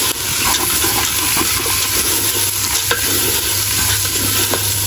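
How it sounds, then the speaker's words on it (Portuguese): Garlic frying in a home kitchen pan, a steady loud sizzle with crackling and occasional stirring scrapes, continuous and close with no talking. "E o meu alho já tá quase queimando aqui, ó."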